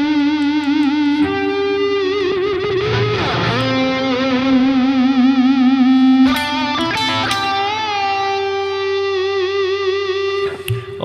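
Electric guitar through the AcouFiend plugin builds infinite feedback. Held notes sustain and swell into steady singing tones, with a few pitch changes and bent notes. It is loud and continuous, with no talk over it.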